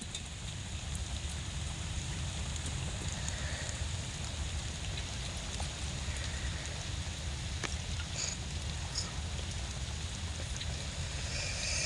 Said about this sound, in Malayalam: വേറെ നല്ല മഴയാ.